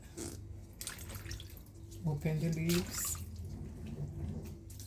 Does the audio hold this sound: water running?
yes